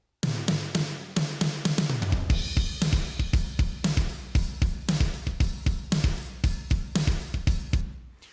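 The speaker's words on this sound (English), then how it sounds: "Here's the final mixed drums." A fully mixed, sample-replaced rock drum kit plays a steady beat with a big, punchy snare and a booming kick. Tight, regular hits come in loud and upfront, with a cymbal wash near the start.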